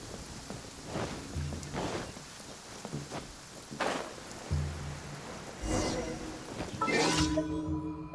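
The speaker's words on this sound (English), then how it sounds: "The rain won't slow me down." Rain falls in the video game Genshin Impact, a steady hiss of downpour under several soft low thumps and swooshes of in-game action, growing a little louder toward the end.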